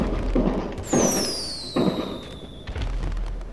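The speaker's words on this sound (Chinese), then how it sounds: "光那个烟火发射器就花我八千块子弹" Fireworks fired from a firework launcher in GTA Online, several whistling rockets rising and popping with dull bursts in a steady rhythm, loud and near with no voices.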